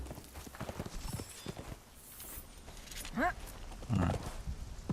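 Hooves clip-clop on a horse in Conan Exiles, with a scattering of soft rhythmic hoofbeats and brief whinny-like tones under quiet gameplay sounds.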